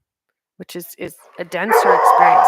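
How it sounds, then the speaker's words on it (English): A pet dog yips and barks a few times in a room, close and sharp, right after someone speaks. "Sorry, that's my dog."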